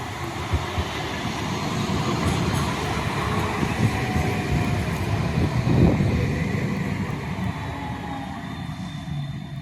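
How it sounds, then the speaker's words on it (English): A London Tramlink tram departs, rumbling steadily along the rails, with rolling wheel noise and faint squeals that swell slightly midway before easing off. "now getting ready to depart is going to be the 10:06 London Tramlink service to Wimbledon"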